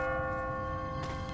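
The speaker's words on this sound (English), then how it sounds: "What kind of church bell goes off at 20 past the hour?" Automatic church bell in The Walking Dead video game, ringing as a sustained metallic tone with strong overtones, a fresh strike near the end, fairly loud and alone.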